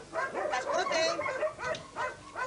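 Several dogs bark and yip together at an animal shelter at mealtime, a dense overlapping chorus of barks in repeated bursts, fairly close and loud.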